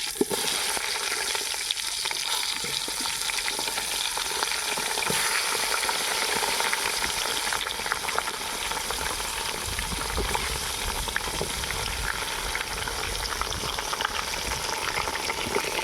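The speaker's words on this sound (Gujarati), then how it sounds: "આ રીંગણા આપણે નાખી દઈશું તળવા" Eggplants deep-frying in groundnut oil outdoors give a loud, dense, continuous sizzle that stays steady and close for the whole stretch.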